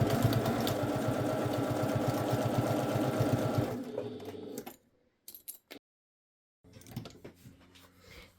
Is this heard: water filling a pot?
no